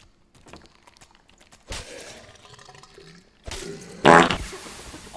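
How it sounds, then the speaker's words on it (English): Fart sound effects in the dark fantasy dungeon game Dark and Darker: a couple of separate bursts, the last one loud and sputtering, heard over quiet in-game ambience with no talking. "Oh, he farted."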